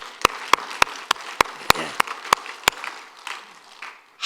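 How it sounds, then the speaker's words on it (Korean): A church congregation at a Sunday service claps in steady unison, about three sharp claps per second, before the beat dissolves into looser, scattered clapping. "우리 하나님께 영광의 박수."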